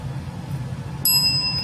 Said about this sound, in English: Can you ring the bell?